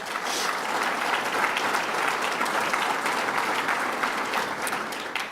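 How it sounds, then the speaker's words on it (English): An audience at a New York State Association of Counties gathering applauds two state legislators, a dense, even burst of clapping from many hands that holds steady throughout. "let's give them another round of applause"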